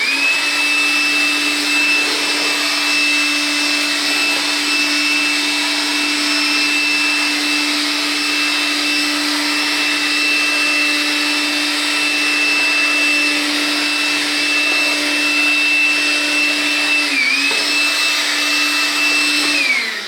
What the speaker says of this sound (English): I'm going to go ahead and utilize my vacuum at this time, and I'm going to collect all of that sawdust.